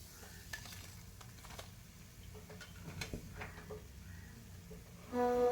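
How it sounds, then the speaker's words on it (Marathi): Breaded paneer fingers frying in hot oil. A faint, steady sizzle continues with soft scattered ticks and small spoon or pan knocks, and it swells a little louder right at the end, with no talking. "या पद्धतीनेच आपण जे उरलेले आहेत आपले ते फ्राय करून घेणार आहोत"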